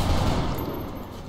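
A single gunshot in XCOM Long War, a loud burst at the start that fades into a decaying rumble.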